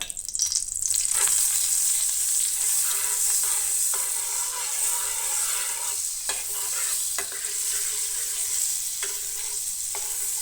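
Butter sizzles in hot oil in a pan as street-style masala pav is cooked at home, a steady bright frying hiss throughout with occasional clinks of a spoon, no talking.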